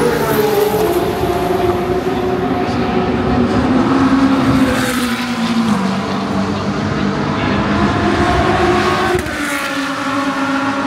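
A race car idles and hums steadily in the pits at the 2024 WEC Lone Star Le Mans endurance race at COTA, a continuous engine drone with shifting tones and possible faint voices in the background.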